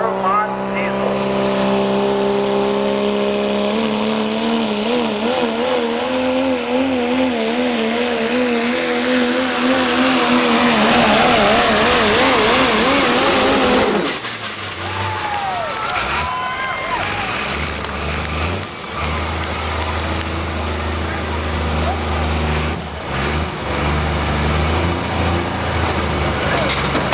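A diesel pulling truck at a truck pull roars loud and sustained, revving high before the note drops and rumbles on, with an announcer talking over the engine noise.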